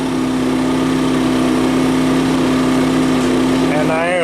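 An A-iPower SC2000 generator with a Yamaha engine runs in eco mode at a steady, loud, even hum with a constant buzzing drone throughout, close by and unchanging, with a person talking over it near the end.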